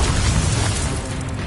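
An Incendio fire spell cast in Hogwarts Legacy bursts out as a loud, dense whoosh of flame, a short sustained roar that eases off slightly at the end.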